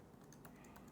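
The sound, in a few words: typing on a computer keyboard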